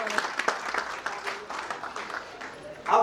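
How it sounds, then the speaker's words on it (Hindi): Enthusiastic applause from an audience at a company business meeting, a steady burst of clapping lasting a few seconds, with a louder swell near the end and voices mixed in. "इनके लिए जोरदार ताली बजाइए"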